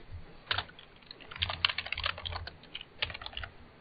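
Quick, light keystrokes on a computer keyboard, irregular bursts of clicks close by with short pauses between them, no one talking.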